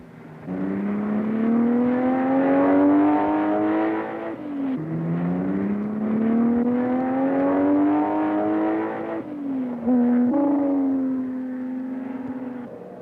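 A 3.3-liter Ferrari race car at the 1964 Sebring 12 Hours sounds loud and close, its engine rising through the gears in long climbing runs with brief dips at each shift.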